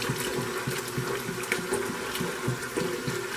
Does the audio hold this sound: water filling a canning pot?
yes